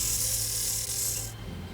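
File rasping a 2 mm copper wire to a cone point: close, steady scraping strokes under a continuous bright hiss, with no voices.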